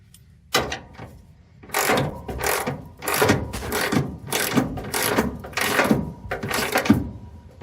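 Hand ratchet tightening a lower A-arm bolt during a suspension install on a 1969 Dodge Charger, heard as a series of rapid clicking bursts, about seven strokes in steady rhythm, close and fairly loud with no talking.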